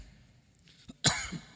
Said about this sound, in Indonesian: Ada yang batuk-batuk enggak?